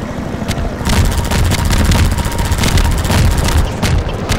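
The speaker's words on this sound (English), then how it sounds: "That is not a happy helicopter." An attack helicopter in the video game Half-Life 2 firing, with loud, dense bursts of rapid machine-gun fire and booming impacts over a constant rotor drone, close and intense throughout.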